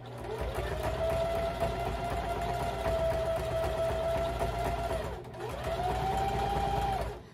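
A sewing machine stitches a rug, running in a steady mechanical whir for about five seconds, stopping briefly, then resuming close and loud.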